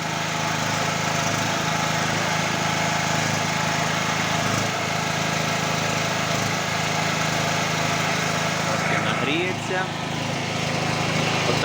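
A Stanley SG 3100 portable petrol generator engine runs steadily and loudly throughout, a constant droning roar with no pauses.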